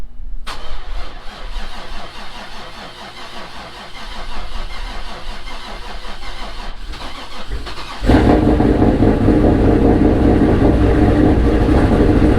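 An LS-swapped Trans Am with a T51R turbo cranks over with a rumbling idle, then roars louder and rougher as the engine catches and settles into a steady, heavy running note nearby.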